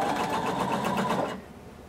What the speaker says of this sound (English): we're going to start at the bottom, and we're going to sew, also using 5/8 of an inch seam allowance